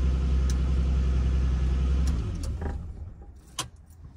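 Ford Mustang transponder car keys jangle briefly and close up after a steady idling car engine cuts off, leaving a few light metallic clinks in near quiet.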